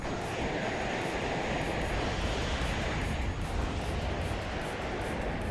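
Mi-8 rocket attack helicopters fly in the WARNO war game, producing a dense, continuous roar of rotor and engine noise with a faint rhythmic chop, loud and steady without letup.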